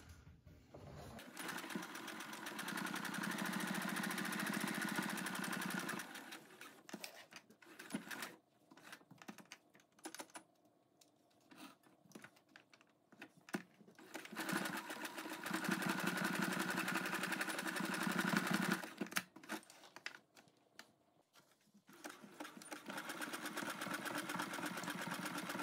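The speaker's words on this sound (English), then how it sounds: "I'm just gonna use a short, wide zigzag stitch to do that." Sewing machine stitching a short, wide zigzag bar tack across the top and bottom of a denim jacket's welt pocket opening, two steady runs of fast rapid needle chatter separated by a pause, close and alone.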